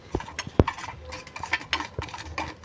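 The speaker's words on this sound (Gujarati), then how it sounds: "તો આપણે એ બધું મિક્સ કરી દઈશું." A spoon mixing cumin, chaat masala, salt and red chilli together in a small bowl for sweet potato chaat, with light irregular clinks and taps and soft scraping close by.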